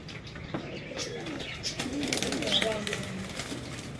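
Fancy pigeons coo in soft, repeated rolling calls close by, with faint wing flutters and chirps, while people talk over the birds throughout.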